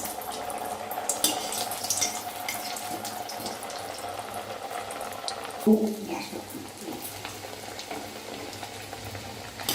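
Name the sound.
mung dal kachori frying in hot oil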